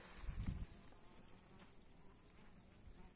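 Honey bees buzz around beehives at an apiary, a faint steady insect hum that stays low and continuous, with a louder low rumble near the start.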